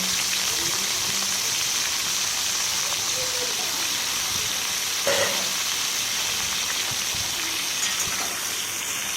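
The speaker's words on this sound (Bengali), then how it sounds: "আলুটা এবং একটু নাড়াচাড়া করে একটু ভালো করে নাড়াচাড়া করে" Potatoes with ash gourd frying in a pan while being stirred, giving a loud, steady sizzling hiss that runs throughout, with one brief knock near the middle.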